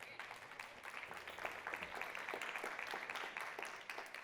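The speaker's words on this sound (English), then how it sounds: "That 2 seconds was your applause." Audience applause at a church talk, a dense steady patter of many hands clapping at moderate distance, continuing for several seconds with no voices.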